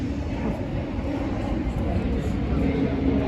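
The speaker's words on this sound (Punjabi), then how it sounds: "ਉਹ ਜਹਾਜ਼ ਜਾਂਦੇ ਆ" An airplane passes overhead a wooded park in Lisbon, Portugal, a continuous low, broad roar holding steady throughout, moderately loud and distant.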